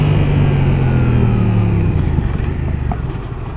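A Yamaha XSR 700 motorcycle engine braking, a loud close mid-pitched drone that slides downward in pitch and fades slightly toward the end, with no talk.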